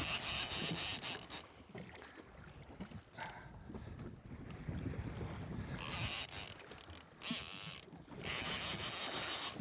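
A Talica 10 fishing reel's drag clicks in rapid ratcheting bursts as line is pulled out by a big fish hooked from a jet ski at sea, with rubbing and handling noise between the runs.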